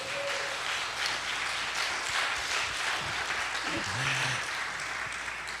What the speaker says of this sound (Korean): 다시 한번 약간 북한식으로 열렬히 박수를 올려드리겠습니다